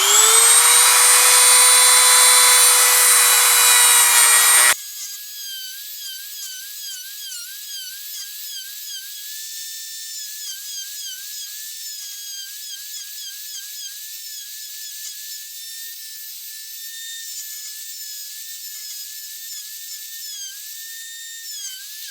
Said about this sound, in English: You can kind of grind it smooth like I did.